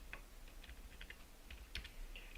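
Quiet keystrokes on a computer keyboard tap out a short word in an irregular run of light clicks, close and faint.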